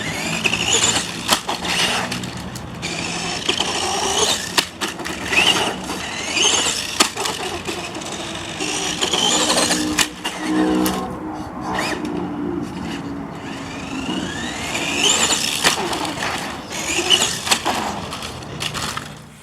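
A Tamiya Super Hornet RC car runs about, its small electric motor whining and surging as it accelerates, skids and crunches over the ground, passing near and far with bursts of rattle and squeal over about twenty seconds.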